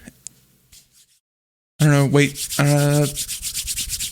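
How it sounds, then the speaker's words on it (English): Hands rubbed together right against a microphone, making loud, rough rasping bursts that start suddenly after a near-silent pause and continue in uneven strokes. "that was me rubbing my hands together"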